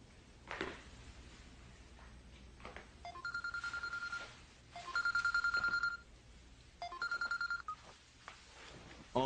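A telephone rings in a Korean drama scene, several bursts of electronic ringing separated by short pauses, moderately loud over a quiet indoor background.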